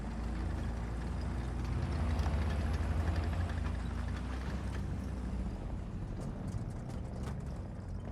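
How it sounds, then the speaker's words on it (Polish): A tank engine in War Thunder rumbles at a distance, a steady low drone with a slight throb, joined by faint clicks and rattles toward the end. "Jest gdzieś przede mną, słyszę silnik."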